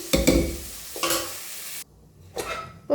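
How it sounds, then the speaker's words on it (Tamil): Cooked dal poured into a pan of sundakkai sambar and stirred, with short bursts of pouring and scraping around a brief pause, close by and moderately loud. "இப்போது வேக வைத்த பருப்பு இது சும்மா கலந்து ஊற்றிக்கலாம்"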